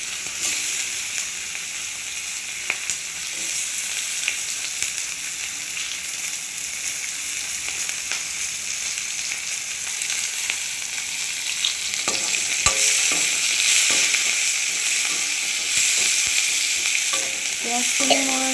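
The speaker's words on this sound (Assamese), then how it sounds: "পিঁয়াজখিনি মই ৰঙচুৱা হোৱালৈকে ভাজি ল'ম" Finely chopped onions fry in hot oil with dried red chillies and bay leaves for an Assamese fish curry. A dense, even sizzle runs throughout, with occasional stirring clatter that gets busier toward the end.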